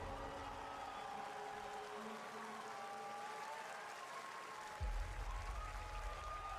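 A crowd at a video game showcase applauds in a steady, distant clatter that lasts throughout, with faint sustained tones underneath.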